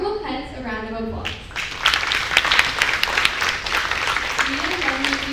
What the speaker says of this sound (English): Let's give our remarkable pets a round of applause